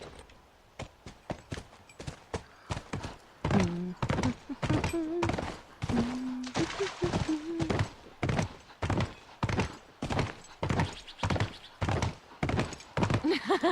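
Horse hooves clip-clop in steady repeated rhythm while riding in the video game The Last of Us, close and fairly loud, with a brief whinny or vocal sound partway through.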